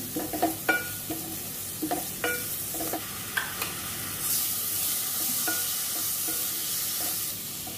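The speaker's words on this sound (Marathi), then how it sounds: "हा गरम मसाला, मालवणी मसाला, हे घालून थोडंसं परतवून घेऊ" Garam masala and Malvani masala sautéing in a pan for elephant yam sabji, with a soft steady sizzle under a series of clattering spoon scrapes and taps, the sizzle swelling louder toward the end.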